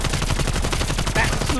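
Rapid gunfire in the Call of Duty Cold War Zombies video game, a dense run of sharp shots in quick succession, loud and close, with a brief high tone near the end.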